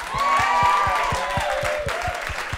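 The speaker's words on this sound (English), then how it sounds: "So let's give them a round of applause." Audience applause at a benefit giveback concert, a dense steady clapping wash with some cheering for about two and a half seconds, with a sustained musical tone and a rhythmic low thump running beneath it.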